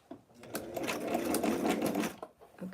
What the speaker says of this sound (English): Presser foot goes down, and let's start sewing.